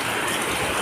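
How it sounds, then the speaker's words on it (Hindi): Dense, steady rain roars without a break, a broad wash of water noise close around the listener. "देखो इतना सारा बारिश।"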